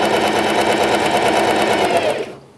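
Up close, a sewing machine stitches a pet bandana with a loud, even whir of rapid needle strokes, then slows and stops near the end.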